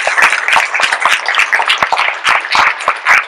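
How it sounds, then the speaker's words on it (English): Close, loud applause from an audience at the Technovation 2015 San Diego student event, with dense, irregular hand claps continuing throughout. "I think you all deserve a round of applause for this."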